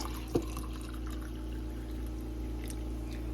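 Liquid is poured into a cup, a soft, steady trickle heard close up over a low background hum, with one small knock near the start.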